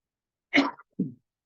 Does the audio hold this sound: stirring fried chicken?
no